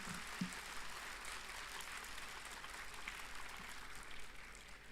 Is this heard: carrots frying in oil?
no